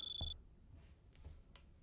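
A phone rings in one brief bright electronic burst at the start, then stops, leaving quiet room noise with a few faint clicks.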